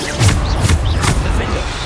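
Bombarda blasting spells go off in Hogwarts Legacy: several short, punchy blasts land in quick succession within two seconds, with a voice briefly heard between them.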